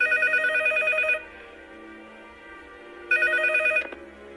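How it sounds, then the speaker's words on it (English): A telephone rings in two loud, close electronic bursts separated by a pause, with a faint tone lingering between rings. "Then why the fuck is the phone ringing?"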